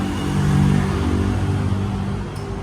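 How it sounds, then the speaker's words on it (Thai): A Ford Ranger Next Gen engine, started by remote, idles with a steady, close, low humming rumble and even harmonic drone throughout, with no voices. "เครื่องยนต์ก็จะสตาร์ทอิกนะครับ"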